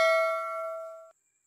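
A single bright notification bell chime rings out clean and close, sustaining for about a second before cutting off abruptly, with no voice present.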